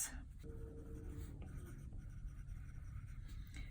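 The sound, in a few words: writing with a stylus on a tablet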